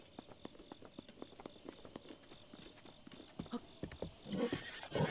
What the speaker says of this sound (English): Okay, let's go, horsey.